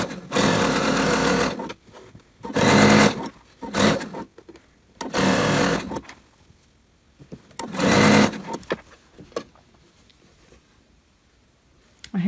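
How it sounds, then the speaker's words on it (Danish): A home sewing machine stitches around a pocket bag for a long vest in several loud, close bursts of steady whirring, stopping and restarting with short quiet gaps between runs. "jeg har nålen nede aktiveret, så maskinen automatisk stopper med nålen nede"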